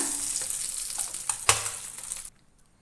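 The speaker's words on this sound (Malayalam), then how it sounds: "മുട്ടയെല്ലാം നന്നായി ഫ്രൈ ആയി വന്നിട്ടുണ്ട്" Eggs frying in a pan for Kerala egg masala roast: a bright, close sizzle with crackles and one sharp pop, cutting off abruptly into near silence.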